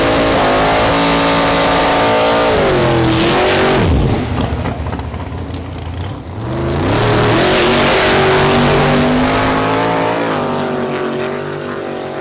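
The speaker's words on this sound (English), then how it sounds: "Next, Hernando Murcia in his powerful Chevrolet Camaro Cazador makes another pass." A Chevrolet Camaro Cazador race car on a timed pass, its engine revving hard through rising gears with a sharp shift drop, then screaming close by before fading slightly as it pulls away.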